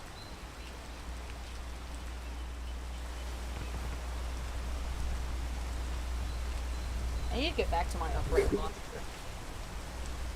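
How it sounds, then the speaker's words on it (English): Steady hiss of rain in Minecraft, constant and moderately loud, with a low hum underneath and someone speaking briefly near the end. "Gosh, I want this rain to stop."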